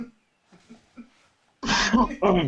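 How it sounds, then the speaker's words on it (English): A single person gives a burst of coughing and throat clearing, loud and close, after a few quiet breathy sounds. "Let me cough."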